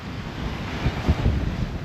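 Steady wind and surf at sea aboard a sailboat on a solo Atlantic return crossing, about 15 knots of breeze, a continuous broadband rush with a few low gusty buffets against the microphone, fairly close and without speech.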